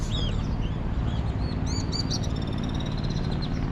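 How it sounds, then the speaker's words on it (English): Birds flying around a fort wall in Fez, Morocco, giving repeated high chirps and short calls, faint to moderate over a steady low rumble of outdoor background noise. "I just thought I'd show you the birds as well."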